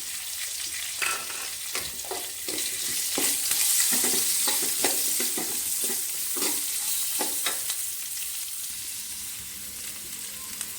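Onions stirred and frying in a pan with green chillies and turmeric for a Tamil okra pachadi, giving a steady close sizzle broken by scraping stir strokes throughout.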